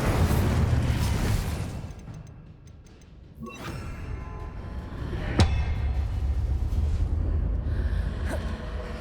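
The Incendio fire spell is cast in Hogwarts Legacy, a game set in a castle: a rushing whoosh fades into quiet, followed by sharp magical cracks and a bright impact burst, with lingering ambient hum and small ticking sounds.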